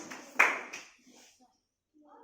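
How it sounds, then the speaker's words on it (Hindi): A couple of sharp hand claps ring out during a Hindi school play, the loudest near the start, mixed with a voice and followed by faint murmuring. "फिर ताली बजाकर खिलखिलाकर हंसने लगती है।"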